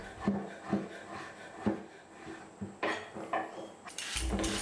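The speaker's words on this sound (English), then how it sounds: "we're dicing up 225 grams of dried apricots and 225 grams of dried dates" A knife dicing dried apricots and dates on a cutting board, a series of soft, close chopping taps in an irregular rhythm, with a brighter clatter near the end.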